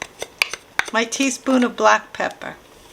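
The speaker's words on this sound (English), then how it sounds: "Mix it all up and let this cook till the kale gets done." A spoon clinks and scrapes against a pot while white bean and kale soup is stirred; a few sharp metallic taps come before and after a person talking over the mixing.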